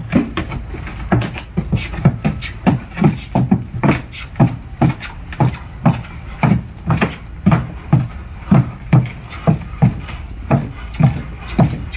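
Horse hooves clop steadily on a wooden platform (tarima) lightly strewn with earth during a training run, giving a regular, fairly close rhythm of hollow knocks that continues throughout with no talk.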